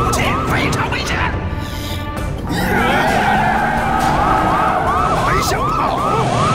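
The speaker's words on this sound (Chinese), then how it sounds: "糟了，咋来了这么多警车？" Several wailing police car sirens sweep up and down in an animated Boonie Bears cartoon chase, loud and continuous under other busy cartoon sounds.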